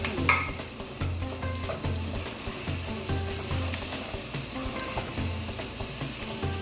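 Onions and chopped tomatoes fry in a pan for a minced-meat and bitter gourd curry, giving a steady, close sizzle with occasional stirring scrapes throughout.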